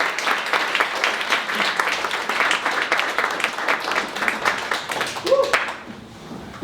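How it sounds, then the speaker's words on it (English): A crowd applauds at a speakers' showcase evening, dense steady clapping that stays loud for several seconds, then thins out and fades near the end. "We get another round of applause for the video."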